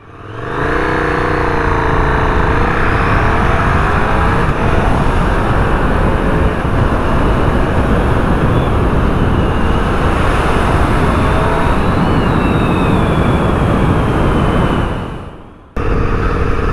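A vehicle rides through a Japanese city: a loud, continuous engine drone with rising and falling pitch sweeps and wind rush, running throughout before cutting off abruptly near the end.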